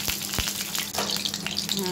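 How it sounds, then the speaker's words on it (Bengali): Eggs lightly frying in a pan, a soft crackling sizzle with a few scraping clicks, steady and close with no talking. "ডিমগুলো হালকা করে ভেজে নেব, বেশি পোড়াবো না।"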